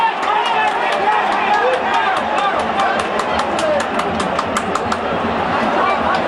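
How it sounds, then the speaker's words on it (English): A packed stadium crowd in Bucharest roars loudly and continuously after a goal in a Dinamo Bucuresti versus Manchester United football match, a dense wall of cheering with rhythmic clapping or chanting beats throughout. "The decibel level has been turned up with that goal."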